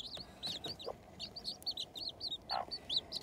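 A broody hen and her young chicks in a backyard pen make soft repeated clucks, with high thin peeping from the chicks running steadily throughout, close and fairly quiet.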